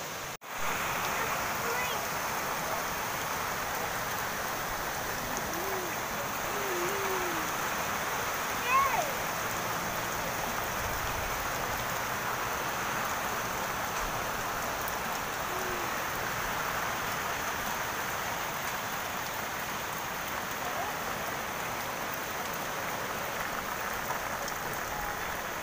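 Steady, dense rain from Typhoon Rolly pouring down in Laguna in the afternoon, a continuous wash that stays even and loud throughout with no break.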